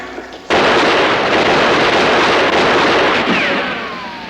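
Heavy gunfire erupts abruptly in a 1963 wartime battle scene, a sustained, loud, dense roar of shots and blasts that fills the space and slowly tapers off near the end.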